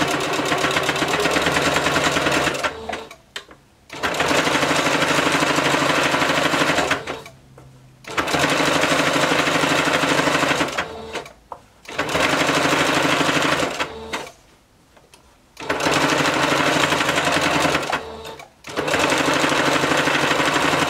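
A sewing machine stitching heavy bodysuit fabric, loud rapid mechanical chatter in long bursts of several seconds each, separated by short pauses where the machine stops.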